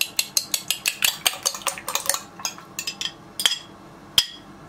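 Three eggs are whisked in a bowl as a fork beats against the side in quick, even clinks that slow and grow more irregular, close and clear with no talking.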